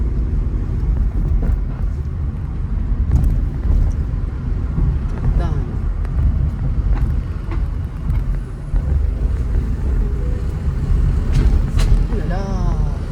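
A car driven through a practice driving-test route in Gardanne hums steadily at low pitch throughout, its engine drone running beneath near, continuous conversation between people inside.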